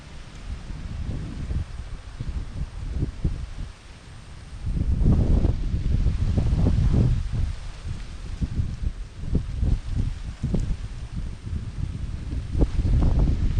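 Strong monsoon gusts buffet the microphone with low roaring surges and rustling corn plants, rising and falling over several seconds.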